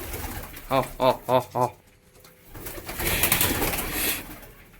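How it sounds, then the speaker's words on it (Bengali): Four soft, rhythmic pigeon coos sound close by, then a pause, followed by rustling and muffled noise. "এই যে পায়রাগুলো সব এইখানে রয়েছে খাবার খাওয়ার জন্য"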